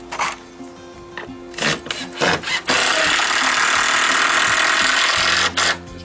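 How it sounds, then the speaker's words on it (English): A screw driven into a timber frame of a wooden deck, several short whirring bursts followed by a long steady grinding drive of about three seconds, close and loud, no talking. "Just drive one of our screws in until it pulls up."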